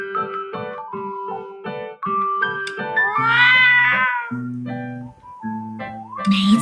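In a Honkai Impact 3rd story scene, a cat lets out a string of short meows in a quick rhythm, then longer, whining cries, set against tonal game music.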